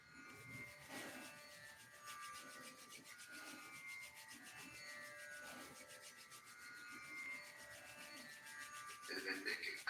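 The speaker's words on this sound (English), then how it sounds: "Rub the palms briskly." Palms rub together briskly in a yoga session, a close, steady dry swishing that pulses in repeated strokes for the whole stretch, with no talking.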